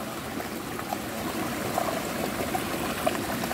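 A clear spring-fed creek flows with a steady soft babble and trickle, fairly close and even, with a few faint plinks and no talk.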